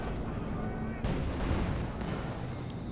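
Tank gunfire in the strategy game Company of Heroes 2, with a Panther tank in battle: dense continuous rumbling booms and explosions filling the mix, with a heavier blast midway, under faint background talk.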